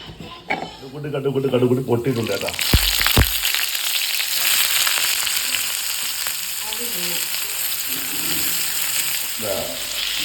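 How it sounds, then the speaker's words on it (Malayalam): Tomato, onion, crushed garlic and green chilli sautéing in a pan for a crab roast: loud continuous sizzling with metal utensil clatter, and a voice speaking briefly at the start and again near the end. "ടൊമാറ്റോ എല്ലാം ഇട്ട് വയറ്റുന്നുണ്ട്"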